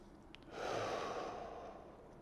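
A slow, deep yoga breath: a soft intake followed by a long, airy exhale close to the listener, quiet and alone.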